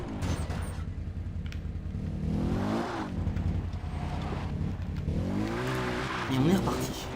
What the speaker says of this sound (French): on va reprendre le quad